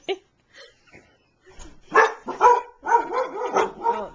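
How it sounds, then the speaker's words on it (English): A few dogs bark in short, overlapping bursts, fairly close, mixed with yips, after a quieter start with faint sounds. "they're gonna go barking at her now"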